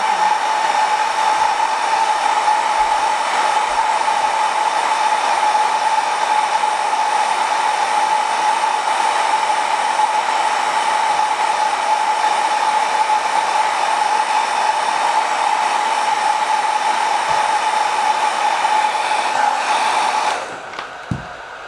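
A heat gun blows hot air onto a vinyl wrap on a motorcycle panel, a steady close whooshing hum with a constant whine that runs unbroken for about twenty seconds before cutting off, followed by a few light handling knocks.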